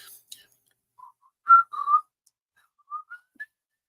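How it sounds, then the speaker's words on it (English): A person whistles a few short, thin, faltering notes, close and alone against near silence. "I can't whistle for shit."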